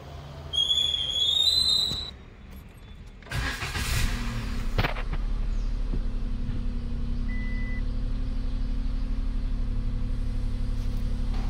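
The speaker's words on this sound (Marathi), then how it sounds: "बघा तुम्ही, मी तुम्हाला आता गाडी चालू करून दाखवतो" A car engine cranks briefly and starts after some faint whistling sounds, then idles steadily with a low, even hum that holds for the rest of the span, close and alone without talk.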